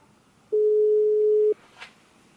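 A single steady telephone tone sounds for about one second while a phone call is placed. It is clean and moderately loud, followed by a brief faint click against quiet background hiss.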